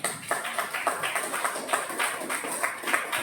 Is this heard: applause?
yes